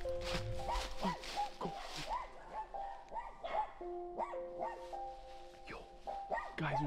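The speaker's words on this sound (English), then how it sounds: "Guys, there's dogs barking." Dogs bark repeatedly in a steady series, somewhat distant, over a rustling outdoor background.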